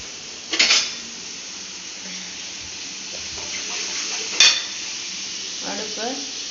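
Two large onions sauté in a pan on full flame for fish kuzhambu, a soft continuous sizzle broken by a couple of sharp spatula scrapes and clinks.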